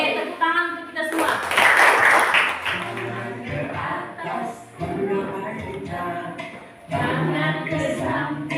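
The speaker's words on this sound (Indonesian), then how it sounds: "tepuk tangan untuk kita semua" A class of high school students clapping together in a classroom, a loud burst of rhythmic clapping mixed with young voices talking and chanting.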